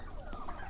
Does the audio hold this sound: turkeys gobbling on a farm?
yes